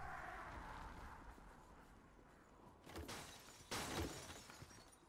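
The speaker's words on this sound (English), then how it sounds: "I'm breaking a lot of mirrors." Mirrors shattering in the video game Code Vein, two sharp crashing bursts of breaking glass a second apart over a quiet hissing background.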